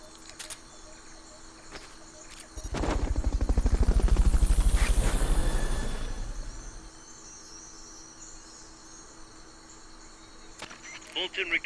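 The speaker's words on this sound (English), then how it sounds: "Fulton recovery subject confirmed onboard helicopter." A helicopter in the video game Metal Gear Solid: Peace Walker sweeps past with a loud, rapid rotor chop that swells, peaks and fades over several seconds, over a steady ambient hum and insect-like chirping.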